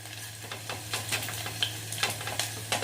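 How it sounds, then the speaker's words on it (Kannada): Cumin seeds sizzle in hot oil in a pan, a continuous close crackle dotted with quick pops and spits over a low steady hum. "ಜೀರಿಗೆ ಹಾಕ್ತಾಯಿದ್ದೀನಿ"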